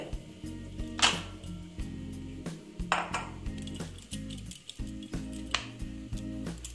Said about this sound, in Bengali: আমি এখন এটাকে ছোট ছোট করে নেচি কেটে নিচ্ছি।